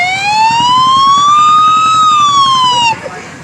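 Ambulance siren (108 emergency service) with one long rising and falling wail, loud and close over a rumbling engine, cutting off near the end.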